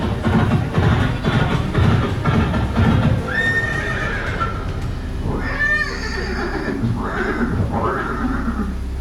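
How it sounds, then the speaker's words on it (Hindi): A horse neighs loudly in a staged scene portraying the warhorse Chetak with Maharana Pratap at Haldighati, with hooves clip-clopping and the whinnies rising over steady background noise and a murmur of voices. "ये दृश्य महाराणा प्रताप और सुविख्यात स्वामी भक्त घोड़े चेतक के अंतिम मिलन का है।"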